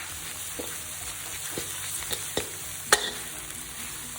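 Mama instant noodles being stir-fried in a hot pan, with a steady sizzle and a few sharp scrapes of the spatula, the loudest near the three-second mark. No one speaks.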